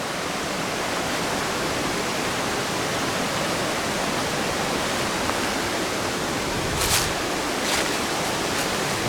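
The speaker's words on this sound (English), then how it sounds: "Tom's Run spilling down the gorge here." Tom's Run stream spills down a gorge in a continuous loud rushing roar of falling water, steady and close throughout.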